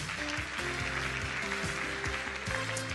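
Audience applause at a tech keynote, a steady wash of clapping from a large crowd that carries evenly through the whole stretch, with music playing underneath.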